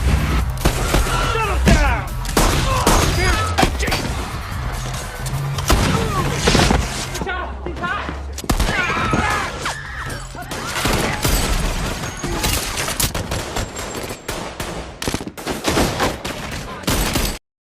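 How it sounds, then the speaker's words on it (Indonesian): Rapid gunfire in an action film as attackers shoot at guards, dense repeated shots and heavy thuds running loud almost nonstop with a brief lull in the middle. "Di dalam, mereka membuat kericuhan dengan menembaki para penjaga."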